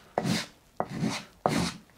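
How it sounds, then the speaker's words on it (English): A large file rasps along the edge of a shoe during shoemaking, three separate rough scraping strokes evenly spaced about two-thirds of a second apart, close and clear with no talking. "Now to trim it off, I'm going to get a large file."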